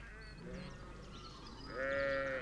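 Merino sheep bleat in a quiet, faint recording, a couple of wavering calls with a louder, clearer bleat near the end.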